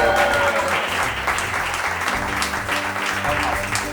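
Loud, sustained applause from a crowd, dense clapping filling the whole stretch with no pauses.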